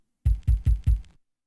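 A Roland SP-303 sampler triggered over MIDI plays four quick, punchy low notes in an even rhythm, each with a short decaying tail, close and clean, with no talking.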